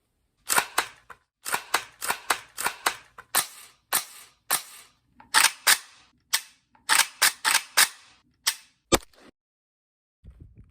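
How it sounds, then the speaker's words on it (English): Rapid gunshots from a Springfield Ronin 1911 pistol, fired in quick strings of sharp, loud cracks with brief pauses between bursts, close to the microphone with no talking. "This thing is the softest shooting pistol I have ever experienced."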